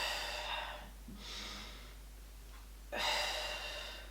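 Audible breaths from someone holding a Pilates abdominal exercise: a long breathy exhale, a softer inhale, then another strong exhale near the end, close and alone with no talk.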